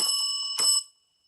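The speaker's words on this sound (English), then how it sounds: "I will ring our venerated bell" A venerated timekeeper's bell at a civic meet-the-candidates forum, struck twice in quick succession with bright metallic rings; the second strike is louder and rings out briefly before falling silent.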